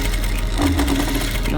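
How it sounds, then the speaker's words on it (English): A sewing machine runs steadily while stitching back over folded elastic at a waistline, a close, continuous mechanical whir with a low motor hum and no pauses. "fold the elastic to one side and stitch over again"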